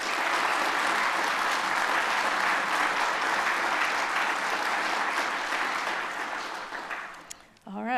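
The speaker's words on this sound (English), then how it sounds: "Can we please have a round of applause for all of our nominees?" Audience applause for award nominees at a 2025 university faculty awards ceremony, sustained dense clapping from a large crowd that tapers off near the end before a voice begins speaking.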